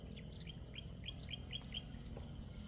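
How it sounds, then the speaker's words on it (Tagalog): A small bird at a farm chirps in a quick series of short, high tweets, about seven notes spread across a couple of seconds, over a steady low background hum. "Look at this bird."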